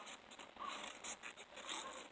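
Soft, close snipping and rustling of scissors working through paper, a series of quiet irregular cuts.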